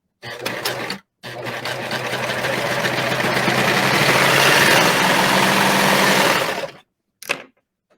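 A serger sewing machine tacks fabric down while making a simple bag, running in one loud steady whirring burst of about six seconds after a brief start-stop, with short bursts at each end.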